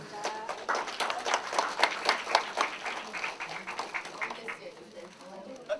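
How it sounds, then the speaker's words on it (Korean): Applause at an award ceremony during an education council's anniversary general meeting in Jungnang, a burst of brisk, rhythmic clapping from the audience that peaks in the middle and tapers off, with some talk mixed in. "축하의 큰 박수 부탁드리겠습니다."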